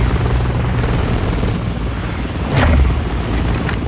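An enemy airplane in a first-person shooter video game roars close and loud as a steady engine drone, swelling into a brief rushing burst near the end; no one speaks.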